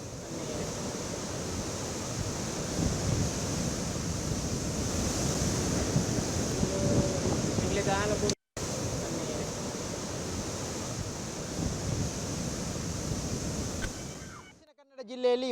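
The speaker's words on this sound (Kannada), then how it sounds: "ಅಲೆಗಳು ಜೋರಾಗಿ ಬರ್ತಾ ಇವೆ." Strong surf and gusting wind roar at Batapady beach in Ullal, Mangaluru, where a house has collapsed; dense, steady wave noise fills the air, broken by a brief cut and fading near the end.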